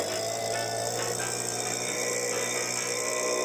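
A STIHL BG86 leaf blower engine runs steadily after repair, a loud, continuous high-pitched whine with no breaks or voices, sounding smoother though not yet carb-tuned.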